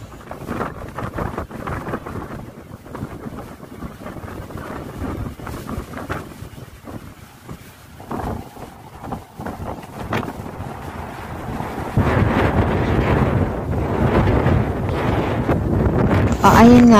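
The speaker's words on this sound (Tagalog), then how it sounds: "Dinadama ko ang bawat hampas ng hangin na may kasamang dagat" Strong wind buffets the microphone in a continuous low roar on a beach in Zambales, Philippines, carrying sand, growing louder and rougher toward the end, with surf faintly underneath.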